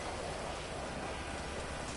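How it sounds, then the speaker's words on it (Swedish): Rain falls steadily in the video game GTA 5 as a soft, even hiss of drops, faint and unbroken for a brief moment. "Det regnar."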